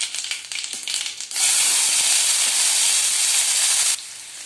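Onion and mustard seeds hit two spoons of hot oil in a heated kadhai with a sudden loud, steady sizzling hiss that holds for about two and a half seconds, then drops back to a softer frying crackle.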